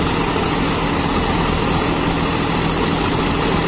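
A John Deere 5405 CRDI tractor engine runs steadily during banana mulching, a constant low droning hum with a broad, even roar, with no voices over it.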